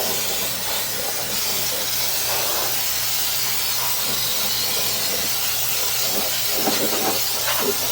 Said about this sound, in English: I just spray it till I get a universal sheen.